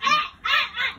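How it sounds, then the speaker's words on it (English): A chicken gives two or three loud, close, honking squawks in quick succession, with a short gap after the first call. "It's not yours, it's chicken."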